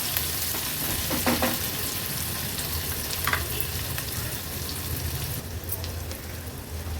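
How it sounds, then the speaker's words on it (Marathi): Finely chopped onion fries in oil in a pan over a low-to-medium flame for a vegetable thali. It gives a steady, dense sizzle with faint stirring scrapes throughout. "आणि हा बारीक चिरून घेतलेला कांदा ऍड करणार आहोत। कांदा आपल्याला शिजवून घ्यायचा आहे।"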